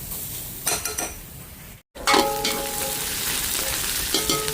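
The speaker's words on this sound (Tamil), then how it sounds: "இப்போ இது எல்லாத்தையும் ஒரு பொன்னிறமாக வறுத்தெடுப்போம்." Whole spices including fennel, mustard, cinnamon, cardamom and clove frying in hot oil, a loud close crackling sizzle with a brief cut partway through and a few soft utensil clinks.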